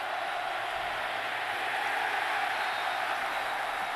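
Football stadium crowd roars steadily throughout, a dense, sustained wash of cheering from fans backing the defense, broad and distant with no distinct voices standing out.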